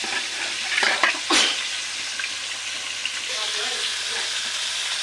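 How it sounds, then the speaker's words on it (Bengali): Koi fish (climbing perch) frying in a pan on a stove, giving a steady close sizzle with brief louder bursts of spattering early on, then settling into a softer, even hiss. "কই মাছটা দিয়ে দিলাম চুলায়।"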